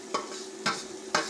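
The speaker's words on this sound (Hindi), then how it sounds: "अभी चम्मच की मदद से ऐसे मैश करेंगे" Cooked aloo saag mashed with a spoon in a village kitchen, heard as three evenly spaced soft thuds against the pot over a faint background hum.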